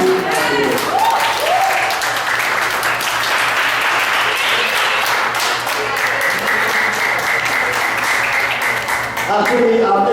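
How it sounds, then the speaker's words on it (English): Loud, sustained applause from an audience for two debate teams at a seminar, steady throughout with voices and cheers mixed in. "I want everybody to give a big round of applause to both teams"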